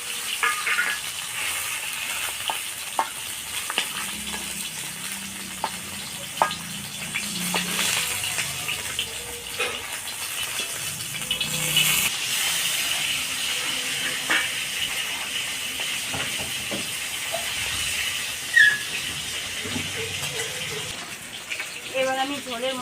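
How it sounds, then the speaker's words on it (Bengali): Pieces of live fali fish frying in oil in a pan, a continuous bubbling sizzle with scattered clinks and splutters, close and fairly loud. "বাকি মাছটা আমি এইভাবে ভেজে নেবো।"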